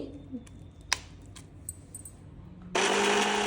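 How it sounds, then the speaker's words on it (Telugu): A few faint clicks and taps, then a mixer grinder grinding amaranth paste with curry leaves and green chillies abruptly starts with a loud, steady buzzing whir close by. "మళ్ళీ మిక్సీ పడుతున్నాం"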